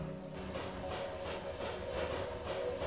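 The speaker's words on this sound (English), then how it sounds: "an unsturdy looking train. I don't know if I would ride on it." A moving train in a video game rolls along with a steady low rumble and soft rhythmic clatter, constant and moderately quiet with no voices over it.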